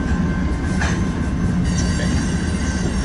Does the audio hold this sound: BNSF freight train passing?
yes